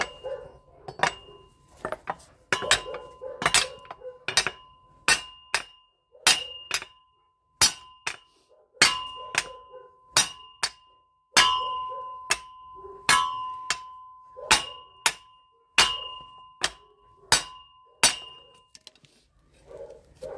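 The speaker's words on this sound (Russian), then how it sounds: "Ржавчину собью сейчас, чтобы было легче мыть." Repeated sharp metallic strikes ringing out at an uneven pace, a hammer banging rust off a car's driveshaft support bearing again and again with short clanging tones.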